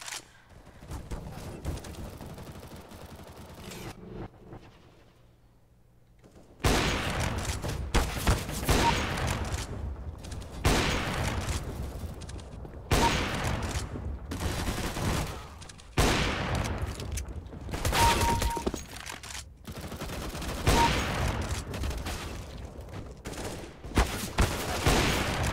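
Repeated bursts of gunfire in the CS:GO video game, loud volleys separated by short gaps, continuing throughout after a brief quiet stretch near the start.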